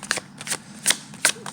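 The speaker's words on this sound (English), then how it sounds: "It's hard to shuffle because it's in cramped spaces." A tarot deck is shuffled by hand in a cramped space, making several quick, crisp riffling bursts separated by short pauses, close and fairly loud.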